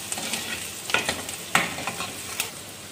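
Onions and green chillies frying in a pan for moong dal tadka, a low steady sizzle broken by several crisp stirring scrapes and light pops, no voices.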